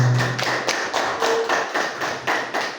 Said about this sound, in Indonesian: Ya, mohon tepuk tangannya Bapak Ibu semua